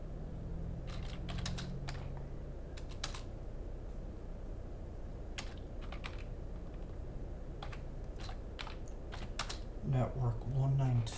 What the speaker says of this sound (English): Now I want to type router RIP RIP version 2.